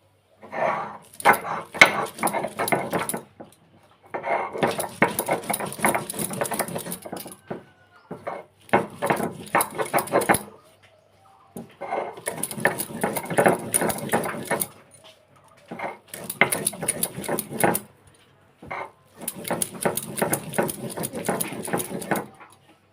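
Vegetables and green chillies ground on a stone slab, heard as repeated bursts of gritty scraping and rubbing in rhythmic back-and-forth strokes, separated by short pauses, close and fairly loud.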